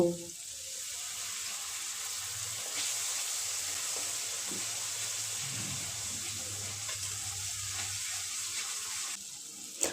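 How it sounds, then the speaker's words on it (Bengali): Spice paste of salt, turmeric, cumin, coriander and dried chilli powders frying with a splash of water in a pan for a cauliflower and peas dish, a steady close hiss and bubble that runs evenly throughout. "সামান্য পরিমাণ জল দিয়ে মশলাটা কষে নেব"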